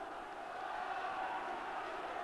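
Big noisy football crowd at Firhill for a 1992 Partick Thistle versus Forfar promotion match, a steady roar of many voices with shouting, continuous and loud throughout.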